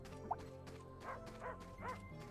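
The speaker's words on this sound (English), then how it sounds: "Bark, bark, bark." Dog barking in the video game Fantasian Neo Dimension, three short yapping barks spaced evenly over a soft, sustained musical background at low volume.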